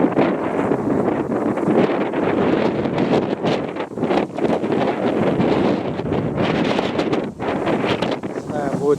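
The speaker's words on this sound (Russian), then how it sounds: "слышно, не слышно, как дует ветер," Strong gusty wind roars steadily into the microphone outdoors in Astrakhan while pigeons are flown, a dense buffeting rush that swells and dips over nine seconds.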